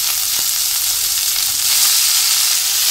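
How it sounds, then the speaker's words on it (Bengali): Banana flower frying in a pan with onion and ginger, a loud continuous sizzle close by, steady and alone with no voices. "মোচাটা দিয়ে একটু ভেজে নেব।"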